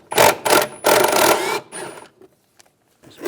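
A ratchet fitted with a 10mm socket turns out a nut on a 2006-2009 Mercedes-Benz E350 during headlight replacement, three close, loud bursts of rapid clicking, then near silence with a few faint taps.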